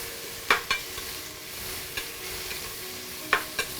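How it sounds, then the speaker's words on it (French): Sliced onion browns in a pan with a steady, soft sizzle, broken by a few sharp scraping clicks as it is stirred. "on peut ajouter un petit peu d'oignon qui est émincé. Et là, nous laissons la roussir un petit peu."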